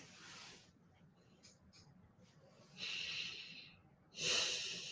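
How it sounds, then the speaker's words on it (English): Breathing during mantra meditation: two airy, audible breaths, one longer and one shorter and louder, rise out of a quiet low background and stand alone at close range. "My breathing changed."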